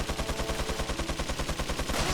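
Rapid automatic gunfire in the video game Resident Evil 4, an even stream of sharp shots about a dozen per second, loud and dense, with no talk.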